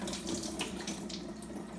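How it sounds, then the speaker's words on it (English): Water from a can of jackfruit pours steadily into a kitchen sink, a continuous soft splashing rush with no talking. "So I'm going to actually drain that water out."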